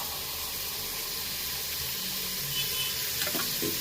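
Tomatoes and field beans (avarekai) going into a hot pan for avarekai pulav, a steady close sizzle and frying hiss with a few light stirring knocks toward the end.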